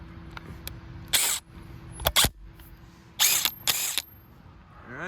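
A DeWalt Atomic 1/2-inch hog ring impact wrench with a 22mm socket works on car lug nuts, firing several short, loud hammering bursts with pauses between them and a faint steady hum underneath.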